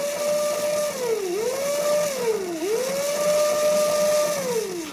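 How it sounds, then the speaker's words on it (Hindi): A Swaraj tractor gearbox whines loudly with a pitched drone that repeatedly dips and rises back up, like a gearbox working under changing load, running steadily throughout. "ट्रैक्टर का गियर बॉक्स है ना भाई, देखो साउंड सुनो आप"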